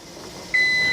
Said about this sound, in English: Okay, so now the 10 minutes have elapsed. I will turn off my timer